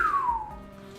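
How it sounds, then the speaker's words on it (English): A person whistles a single short note that slides downward and then holds, close and fairly soft. "I can't whistle that great."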